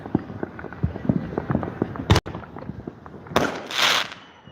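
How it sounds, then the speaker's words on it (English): Fireworks going off in a city street on the Fourth of July in Las Vegas, sharp distant bangs and crackling bursts over a patter of rapid small pops, with a loud crack midway and a hissing burst near the end. "Oh, we got a firework right here."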